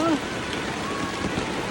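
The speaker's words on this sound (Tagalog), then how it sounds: "nag-ulan" Steady rain falling outdoors, a dense, even hiss of drops on surfaces that keeps going throughout, with a brief tone at the very start.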